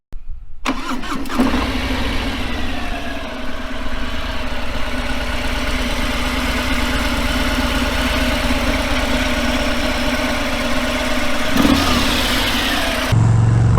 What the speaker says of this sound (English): I would give this a 5 out of 10, rated based off of the stock exhaust sound